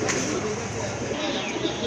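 A pair of Rajgolla pigeons coo close by against a steady wash of background noise, with voices faintly present.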